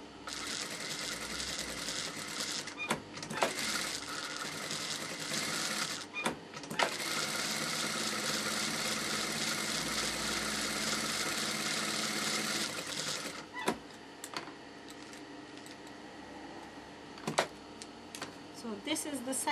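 A sewing machine stitches through fabric with concentrated heavy embroidery, running in long steady bursts broken by short pauses as the work is repositioned, close and fairly loud.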